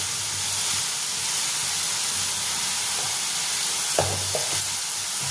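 Ground chilli and turmeric are stirred into a hot frying pan with onions and spices, giving a steady loud sizzle and hiss with a few scraping spoon strokes toward the end.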